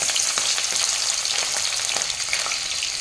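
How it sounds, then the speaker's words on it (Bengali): Fish coated in salt and turmeric sizzles loudly in hot oil, a continuous crackling spatter with occasional sharper pops and no talking. "প্রথমে এই নুন হলুদ মাখানো মাছটাকে ভেজে নেব।"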